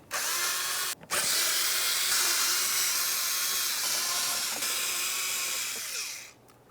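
A power drill with a T25 star bit spins out screws during A/C condenser removal on a 2011-2018 Volkswagen Jetta: a loud, steady whir that breaks off briefly near the start, then runs on before winding down.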